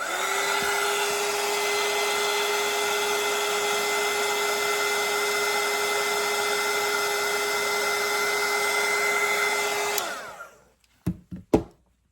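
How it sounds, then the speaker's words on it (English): A hair dryer blows steadily for about ten seconds while drying watercolor paint, then cuts off, followed by a few faint knocks. "And I'm gonna dry this so I can add another layer to it."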